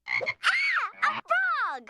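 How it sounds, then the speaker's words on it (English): A cartoon frog gives a few loud, warbling croaks in quick succession, each a drawn-out, wobbling call with short gaps between them, heard clearly with nothing else behind. "A frog!"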